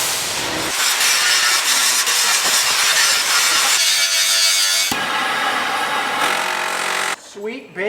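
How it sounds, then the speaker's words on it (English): An angle grinder works on a snapped hydraulic pump pipe from a big payloader, producing a loud, harsh continuous grind that shifts pitch and cuts out near the end, with a voice speaking over part of it. "we snapped one of our pipes out of our hydraulic pump on our big payloader, so I'm gonna grind it up"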